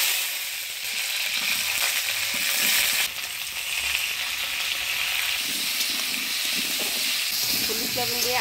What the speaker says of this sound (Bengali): এবার আলু ফুলকপিটা ভাজি নিই